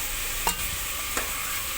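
Tomato frying for dal, a steady even sizzle in the pan with two brief stirring scrapes.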